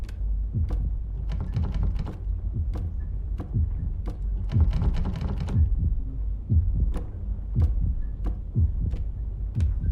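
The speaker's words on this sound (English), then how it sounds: "The sound of a heartbeat is coming from inside the cabinet." Steady heartbeat thumping from inside a cabinet in a horror video game, regular low double beats repeating throughout at moderate loudness, with no talking over it.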